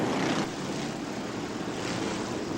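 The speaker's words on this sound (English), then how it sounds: "The mighty roar of these really powerful engines as they come thundering through" Powerful F1 stock car engines roar past continuously at Northampton Stadium during the 1982 European Championship Final, a loud, broad, unbroken thunder with no speech over it.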